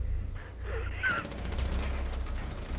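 Rapid gunfire in Rainbow Six Siege plays as a quick burst of shots under faint game ambience, moderately close, with a brief breath or gasp from a player.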